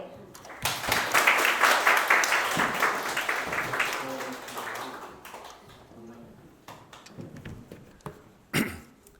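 At a biodiversity space-breeding program launch ceremony, an audience bursts into loud, close applause that gradually thins out and fades into scattered claps and quiet room noise.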